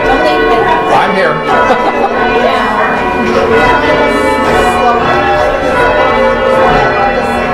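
A church tower bell in a memorial bell tower rings loudly and steadily, its strokes sounding close and reverberant, with rich lingering overtones and the voices of people talking during a bell-ringing class.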